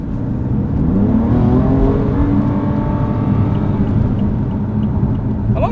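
A BMW M3 Competition F80 engine pulls hard under acceleration, a loud, close rumbling roar that climbs steadily in pitch, held in gear, with no talking.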